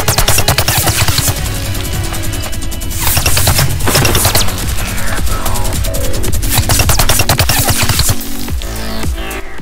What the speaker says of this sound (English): Alright, I think it's time to take out the minigun.